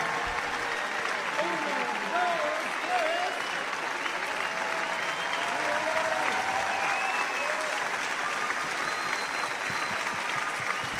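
A concert crowd claps steadily and densely throughout a band's anniversary show with a symphony orchestra, with scattered whistles and shouts rising above the continuous applause.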